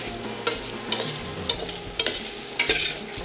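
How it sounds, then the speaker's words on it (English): Garlic fries in a pan with a steady background sizzle, broken by regular sharp scraping stirs roughly every half second, close and clear with no talking. "our garlic and everything else is fried up nicely"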